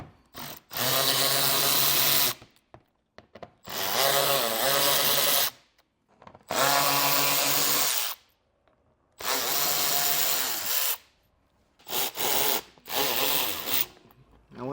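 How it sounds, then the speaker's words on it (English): A power driver with a 7mm socket removes screws from an underbody panel on a 2021 car, running in four or five loud, close whirring bursts of a couple of seconds each, separated by short pauses. "you're going to come back with a 7mm socket, and we're going to be removing the screws that are located here as well as underneath"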